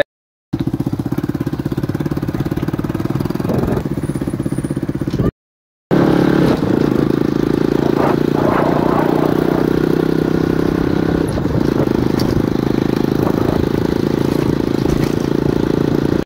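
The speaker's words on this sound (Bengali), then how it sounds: "তো আমরা এখন যাচ্ছি বাইক নিয়ে খালপাড়ের দিকে" Motorcycle engine droning steadily while riding along a canal-side road, a loud continuous close rumble with clattery mechanical texture and a brief cut in the middle.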